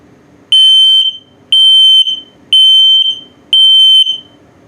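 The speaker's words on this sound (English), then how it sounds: "And then low battery alert." Four loud, high-pitched electronic beeps from an RV's combined LP and carbon monoxide detector sounding its low battery alert in a 2021 Mesa Ridge 212FB travel trailer, evenly spaced about a second apart with faint room noise between them.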